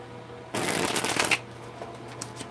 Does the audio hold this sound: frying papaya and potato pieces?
no